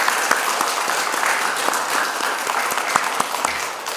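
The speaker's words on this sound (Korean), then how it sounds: "우리 리더해 주신 분을 위해서 뜨거운 박수 한번 보내주시면 감사하겠습니다." A church congregation claps warmly, with dense, continuous applause and sharp individual claps standing out, no voices over it.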